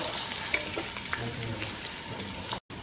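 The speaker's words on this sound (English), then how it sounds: "Add sliced onion. Let it golden brown." Sliced onion frying in a hot pan makes a steady close sizzle with a few light stirring clicks, continuous throughout, with a brief dropout near the end and no speech.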